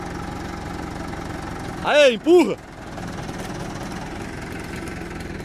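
A tractor engine idles steadily throughout while firewood is loaded, its low hum running under brief shouted voices near the middle.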